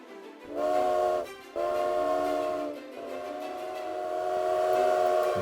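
A train in an animated Telugu children's story lets out three long, loud whistle blasts, each held for a second or more with only brief gaps between them. No one speaks.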